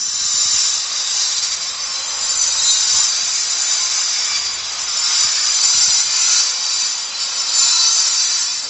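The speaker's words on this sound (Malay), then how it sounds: "Okey, dah boleh grind dulu." A grinder runs during electrical wiring work, giving a loud, continuous, harsh hissing whine that holds steady and close for several seconds with only slight swells in intensity.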